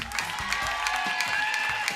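A studio audience at an Indonesian morning television variety show breaks into steady, dense applause, many hands clapping continuously and fairly close, with a faint sustained musical tone running underneath and no speech.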